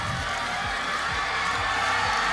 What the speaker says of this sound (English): The crowd is cheering every single move she makes here.